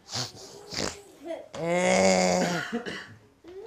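A storytelling voice imitates someone breathing heavily at a tower door in a children's tale, with short huffs and then a long, drawn-out, groaning, voiced puff before more quick breaths.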